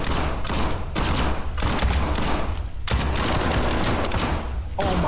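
Gunfire in an SCP Foundation game, with continuous rapid automatic bursts that hammer on loudly for several seconds, broken by a few short gaps, alongside faint voices.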